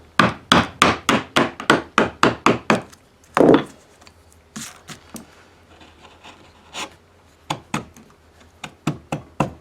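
A hammer strikes a copper tray in a rapid, even series of sharp blows. A louder burst follows, then sparser, irregular taps, all close and alone without talk.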